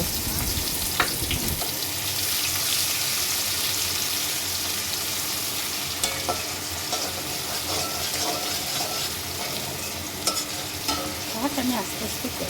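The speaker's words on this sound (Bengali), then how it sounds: "ভাজা হলে কুচিয়ে রাখা পেঁয়াজটাও দিয়ে একটু ভেজে নেব।" Chopped onion with dried red chilli, bay leaf and cumin fries in oil for goat curry, a loud steady sizzle with occasional utensil scrapes and clinks as it is stirred.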